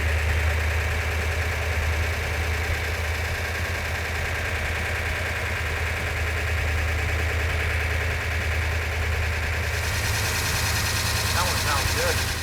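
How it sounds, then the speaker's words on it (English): A Hemi Charger car engine idles steadily in a low, continuous rumble, loud and close, with a rougher burst near the end. "The engine sounds every bit as good as it did when it was on the engine run stand."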